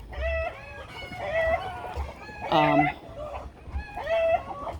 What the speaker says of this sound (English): Chickens are all laying. This is about the time they all start laying their eggs. You can hear them singing.